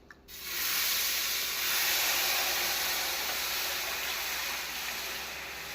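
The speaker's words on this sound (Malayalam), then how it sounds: "ഇനി നമുക്ക് ഈ ശർക്കര പാനി ഇതിലേക്ക് ഒഴിച്ചു കൊടുക്കാം" Jaggery syrup pours into a pot of parippu payasam with a steady, broad hissing rush that starts abruptly and holds at an even level throughout.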